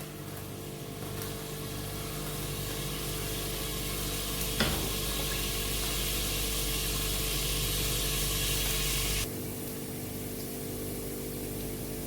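Steady sizzling of garlic frying in hot oil for mash lentils, a continuous crackling hiss with one brief clink partway through, stopping abruptly near the end.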